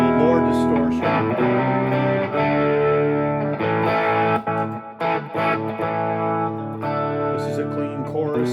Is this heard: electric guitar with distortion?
yes